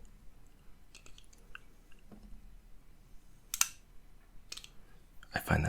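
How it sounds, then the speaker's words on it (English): A hunting knife gives a few soft, sparse clicks in a quiet ASMR setting, with small snaps spread out and a sharper cluster near the end. "I just did it for the clicking sounds."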